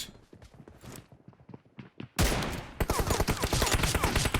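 Gunfire from an M24 sniper rifle in the mobile game PUBG Mobile: quiet footsteps and light thuds at first, then a sudden loud shot followed by a dense run of rapid, close gunfire to the end.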